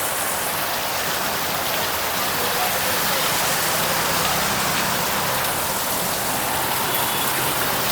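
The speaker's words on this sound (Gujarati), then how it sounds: "વરસાદ પડે છે ધોમ" Heavy rain pours down steadily and loudly as a dense, unbroken hiss of drops on surfaces outside a showroom, with no clear talk.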